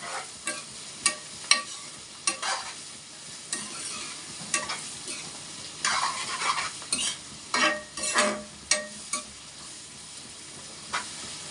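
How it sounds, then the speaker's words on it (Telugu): Fish frying in oil in a pan, with onions, crackles and sizzles up close while a utensil stirs and scrapes in irregular bursts, some louder clanks standing out over the steady hiss. "నేను కడిగి పెట్టిన చేపలు వేసుకుంటా దీంట్లో ఇది కూడా నూనెలోకి వేగిందంటే అంత బాగుంటుంది"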